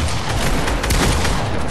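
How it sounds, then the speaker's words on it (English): Gunfire in a Fortnite match: a dense, loud wash of overlapping shots and booms fills the whole short stretch with no pause and no talking. "Oh, Johnny just tried to shoot."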